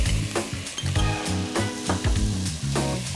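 Diluted tomato concentrate sizzles loudly as it is sautéed in a cooking pot for tbikha, a constant close hiss and bubbling crackle with a few brief stirring knocks.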